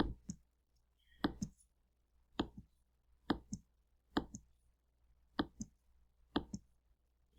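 Soft, close clicks of keys being pressed, in small clusters of two or three with short pauses between, faint against a quiet background.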